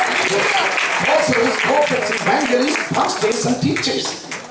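A church congregation claps together at an ordination service, a loud sustained patter of many hands with voices calling out over it.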